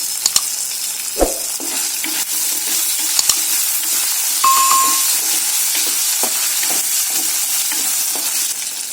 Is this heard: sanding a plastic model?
no